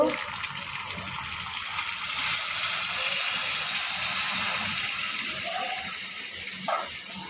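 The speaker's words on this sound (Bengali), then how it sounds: "এখন এর মধ্যে আমি পরিমাণ মতো গরম জল অ্যাড করে দিব।" Hot water pours into a pot of rice and chicken for murog pulao, a steady close gushing stream that swells slightly and holds, with faint background noise.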